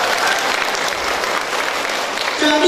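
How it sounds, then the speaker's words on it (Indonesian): Steady applause from an audience at a talk about women, broad dense clapping throughout that swells slightly near the end. "Tepuk tangan dong untuk wanita."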